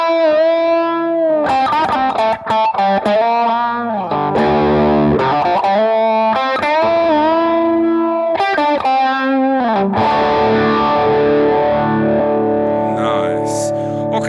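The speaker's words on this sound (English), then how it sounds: "We've got a phaser in here as well." An electric guitar plays through a phaser effect on a BOSS GT processor set to a Vox AC30 amp model, giving sustained distorted notes and chords with a sweeping, shifting tone throughout.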